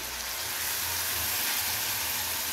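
Ground garlic, ginger and green chili paste fries with onions in a pan, giving a steady, even hiss of sizzling throughout with no talk.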